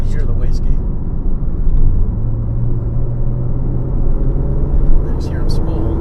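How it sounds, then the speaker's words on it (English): Porsche 911 Turbo engine droning low and steady as the turbo spools, heard from inside the car, with a faint hiss near the end that could be the wastegate. "Oh, there's the wastegate."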